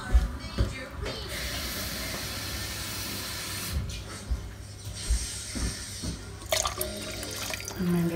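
Water runs and splashes into a soup pot of vegetable and barley soup on a home stove, a steady hissing pour with a few clunks and knocks from the pot along the way.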